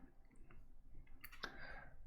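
A couple of quick, faint computer mouse clicks, a double click, heard close against a quiet room background with no talking.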